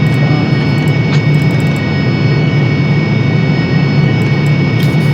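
A Harrier jet's engine roars in the DCS flight simulator game, a steady, loud, dense rumbling whoosh with a faint high whine on top, constant throughout with no speech.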